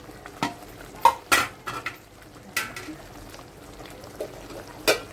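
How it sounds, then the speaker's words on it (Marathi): Paneer is added to bubbling gravy in a pan, with a few sharp clinks of a spoon against metal and soft stirring over a low simmer. "ग्रेव्हीला बघा छान उकळी आली आता ह्याच्यामध्ये आपण पनीर घालून घेऊया"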